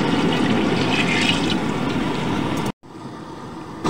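Measured water, about ten glasses, poured into a cooking pot for country chicken biryani: a loud, steady gushing pour that stops abruptly, followed by a quieter trickle.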